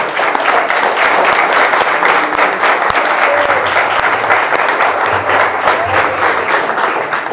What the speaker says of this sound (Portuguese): Você pode aplaudir aí?